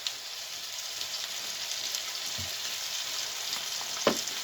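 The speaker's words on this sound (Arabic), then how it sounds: "هنفضل نقلب فيها لحد ما البطاطس تحمر" Potatoes frying in a pan with salt and pepper as they're stirred: a steady bright sizzle throughout, with a couple of soft scraping knocks from the stirring, no voices.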